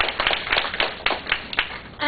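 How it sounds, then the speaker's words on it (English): Sparse clapping from a small audience at an overseas study program sharing session, a handful of hands beating in loose, uneven bursts, fairly quiet and close, over a faint room murmur. "Give them a round of applause."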